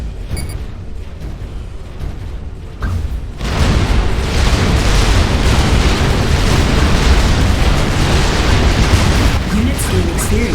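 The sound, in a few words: tank and assault bot combat explosions, video game Supreme Commander 2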